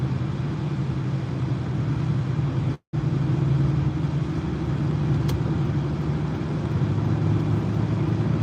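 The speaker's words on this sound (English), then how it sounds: "driving on my way to work" Steady car engine drone while driving to work, a continuous low rumble with road noise that runs without letup apart from one brief dropout near the start.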